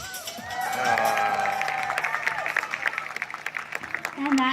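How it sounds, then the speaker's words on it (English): Aquarium seal show audience clapping and cheering, moderately loud, with a presenter's voice and children's shouts layered over the applause. "They really do appreciate all of your applause."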